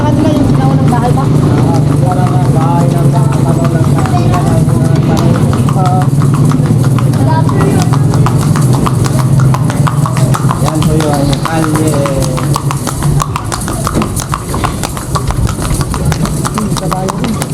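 Horse hooves clip-clop steadily on a street as a horse pulls a kalesa along Calle Crisologo in Vigan, an even rhythmic beat with an engine humming nearby and people talking over it.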